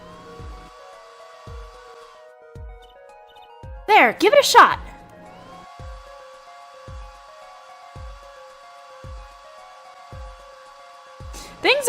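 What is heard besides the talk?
hair dryer drying plaster in Apollo Justice: Ace Attorney video game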